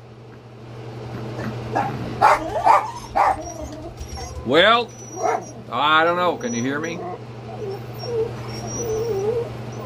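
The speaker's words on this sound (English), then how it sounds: "With all that barking going on?" A dog barks and yips repeatedly in sharp, high bursts close by, while a person talks over the noise and a steady low hum runs underneath.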